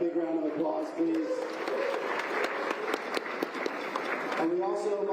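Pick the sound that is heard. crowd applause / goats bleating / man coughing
crowd applause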